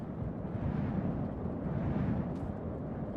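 An old modified car crashes in The Long Drive, giving a heavy, continuous low rumble with a muffled impact roar that stays loud and dense for about three seconds, with no voices over it.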